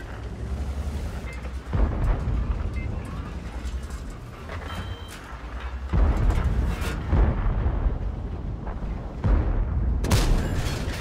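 Heavy tank cannon fire in a World of Tanks-style battle on El Halluf, shells striking a Bisonte C45 tank; several deep booms land at intervals over rumbling engine and battle noise, with a commentator talking throughout.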